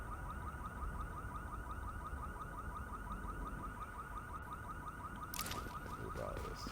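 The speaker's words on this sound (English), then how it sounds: "Proximity of this alarm." In The Division video game, a proximity alarm sounds as a steady, repeating electronic tone over a background of game ambience, ending with a brief sharp burst near the close.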